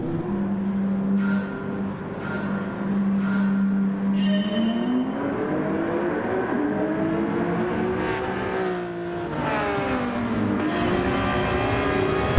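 Racing cars in a motor racing video game hold a steady engine drone at the start of a race, then pitches climb and shift as the engines rev and the field moves off, continuous and fairly loud with no speech.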